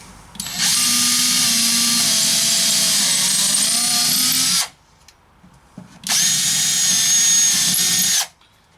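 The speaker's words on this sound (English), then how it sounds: "then we can go ahead and drill our hole" A power drill whines loudly for about four seconds, stops, then runs again for two more seconds, biting steadily into wood.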